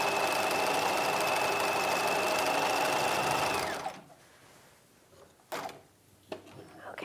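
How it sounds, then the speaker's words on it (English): Sewing machine stitching flat around the hem of a 1950s halter dress, a fast steady mechanical whir for about four seconds that stops abruptly, followed by a few quiet handling clicks. "you're just stitching flat all the way around the hem"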